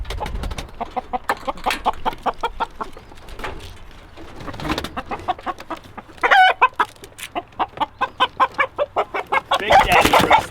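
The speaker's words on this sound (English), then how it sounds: "Big Daddy Rooster" Chickens cluck and coo in steady rhythmic bursts nearby, with a rooster's louder calls breaking in toward the end.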